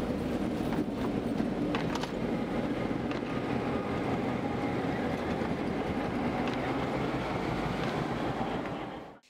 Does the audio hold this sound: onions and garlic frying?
no